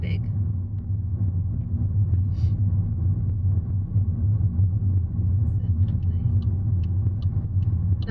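A car passes on a large roundabout heard from inside another car, its passing sound buried under a steady low engine and road rumble that runs the whole time with little change.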